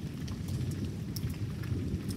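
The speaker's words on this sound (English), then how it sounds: "watching a good storm right now" Steady rain on surfaces during a thunderstorm with continuous low rumbling thunder beneath, scattered sharp drop patters on top, heard for about two seconds, fairly quiet and distant, with no talking.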